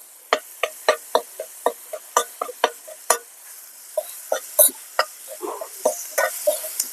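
Ginger garlic paste frying in a pan, sharp sputtering pops and spatters in an irregular burst pattern over a quiet background, close and alone without talk.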